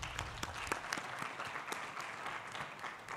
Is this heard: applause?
yes